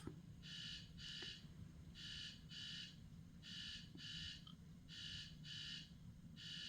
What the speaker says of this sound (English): an alarm I forgot about just started going off